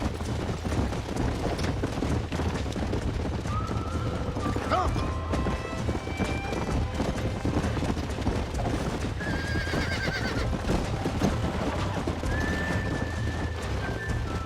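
A horse lassoed in Red Dead Redemption on Xbox 360 gallops with continuous hoofbeats and lets out several loud neighs and whinnies over busy game sound.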